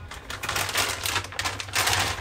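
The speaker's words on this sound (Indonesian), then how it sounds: "Bungkusnya saya gunting dulu" Scissors snip through the plastic packaging of supermarket chicken in quick, close, crinkly bursts, a rapid irregular series of crisp cuts without talk.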